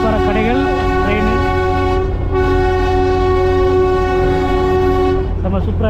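The Darjeeling toy train runs along its track and sounds a long, loud steady horn blast, with the clatter of the train underneath and voices talking nearby.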